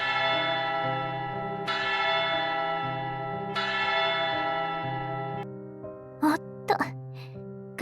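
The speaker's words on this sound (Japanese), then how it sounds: "鐘が鳴りましたね。" A deep church bell tolls repeatedly in the game Haze Reverb, with long ringing overtones between strikes, and a brief voice is heard near the end.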